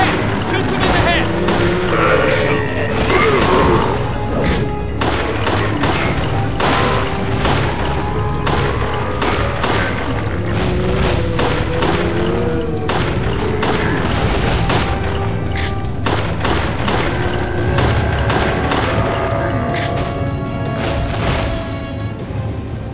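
Gunfire in the video game Resident Evil: The Darkside Chronicles, loud repeated shots and booming impacts in uneven bursts over a churning background, with voices talking among the shots.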